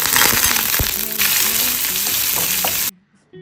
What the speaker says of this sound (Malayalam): എണ്ണ നന്നായി ചൂടായി വരുമ്പോൾ 1 സ്പൂൺ കടുക്, 1 സ്പൂൺ ചെറിയ ജീരകം, 1 വറ്റൽമുളക്, കറിവേപ്പില ഒരു വട്ടത്തിലരിഞ്ഞത്